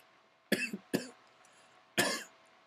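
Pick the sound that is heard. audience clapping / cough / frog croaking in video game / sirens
cough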